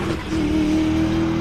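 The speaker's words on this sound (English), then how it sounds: "That V8 leaving the line." A big V8 drift car at a British Drift Championships qualifying run at Teesside revs hard leaving the start line, a loud sustained engine roar holding a steady high pitch after a brief dip.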